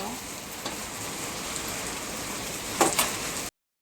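Steady bubbling hiss of water boiling in a pot, close and continuous, with a brief clink near the end.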